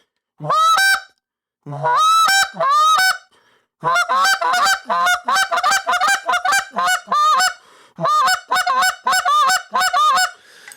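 A goose call blown up close, sounding loud, rapid honks in quick bursts, with a few drawn-out moaning notes and short pauses between runs.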